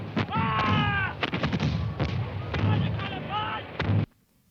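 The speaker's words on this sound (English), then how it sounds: "The rebel cannon have opened fire." Rebel cannon of the artillery opening fire at Culloden, a rapid series of heavy booming shots over a continuous battle din, with shouted voices and distant brass-like calls mixed in before an abrupt cutoff.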